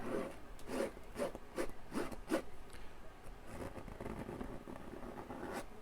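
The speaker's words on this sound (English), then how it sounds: "Let me scrape a little bit of this off. So you can scrape your paint off." A palette knife scrapes excess oil paint off a canvas while painting a mountain, a run of short, close rasping strokes in a steady rhythm that then thins into a softer, continuous scratchy rub.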